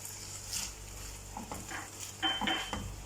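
Raw liver, coated with lemon juice and salt, is stirred and mixed in a bowl or pan, giving a few close, wet squelching and scraping sounds with light metallic clinks over about three seconds, without any speech.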